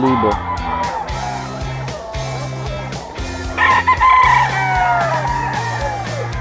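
Young gamecock stags at a Bocaue poultry market crow repeatedly and overlap one another, with clucking and a busy market murmur behind them. Voices are faintly audible in the background.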